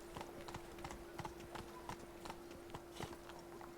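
Roach the horse galloping in The Witcher 3, with rapid, steady hoofbeats thudding in a regular rhythm over a constant low hum, close and clear.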